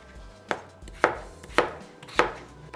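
A kitchen knife chops potato into cubes on a cutting board, giving five sharp, evenly spaced knocks close by with no voices.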